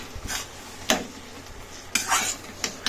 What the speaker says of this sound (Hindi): ये देखो बैंगन का भरता बन रहा है।